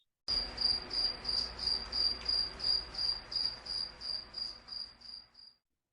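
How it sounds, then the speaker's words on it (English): Cricket chirping sound effect: a steady, rhythmic series of about a dozen bright chirp pulses, evenly spaced and fairly loud, heard alone over a quiet background hum, stopping abruptly. "Pause for cricket noises."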